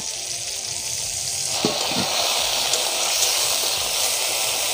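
Tomato added to a hot frying pan for Bengali jackfruit curry (echor kalia) sizzles loudly and steadily, with a brief clatter of stirring partway through and no voices.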